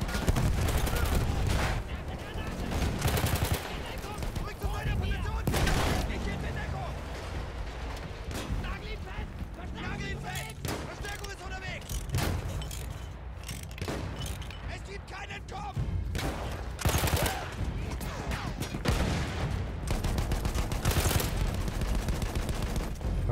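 Battlefield 1 gunfire crackles in repeated bursts and sharp single shots, loud and close, with broadband blasts spread through the stretch and some voices underneath.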